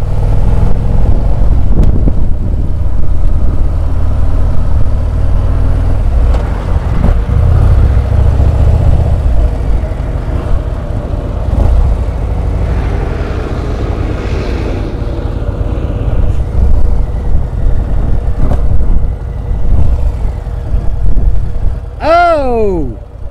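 A 2023 Harley-Davidson CVO Road Glide with a HOG120 engine cruising along on a ride, heard as a loud, steady, low engine drone with wind rumble, the pitch shifting slightly, and a brief rising whine near the end.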